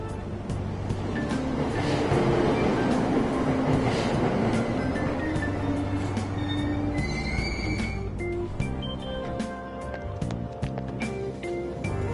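Train noise inside Aoyama Itchome station in Persona 5 Royal, a steady loud rumble of a subway train with rising squealing wheel tones toward the end, continuous for the whole stretch.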